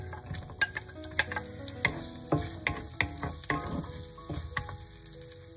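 Spices, scallion and garlic stir-fried over low heat in sunflower oil sizzle steadily, with repeated scraping stirs of a utensil against the pan and no talking.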